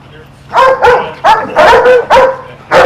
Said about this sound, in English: Unfortunately, his alert is to bark.